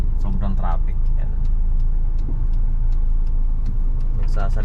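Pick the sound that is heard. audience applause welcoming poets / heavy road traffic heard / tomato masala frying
heavy road traffic heard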